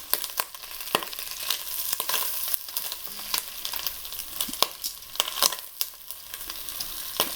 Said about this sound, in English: I don't want hot bacon grease splattering up on me.